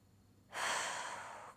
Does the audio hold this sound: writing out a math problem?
no